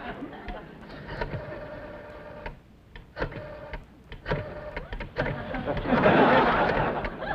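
A rotary telephone being dialed makes a series of close, brief mechanical whirring spins and clicks separated by short pauses, with voices and chuckling mixed in.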